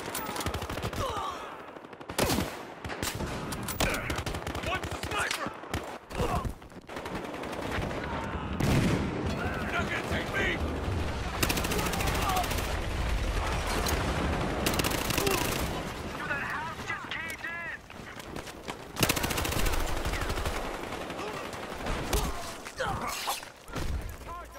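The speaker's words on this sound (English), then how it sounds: "Sniper's gunning for us!" Gunfire from snipers and guns in the video game Battlefield Hardline, set in Hollywood Heights. It comes as dense, repeated bursts and single sharp shots throughout, with in-game voices shouting over the shooting.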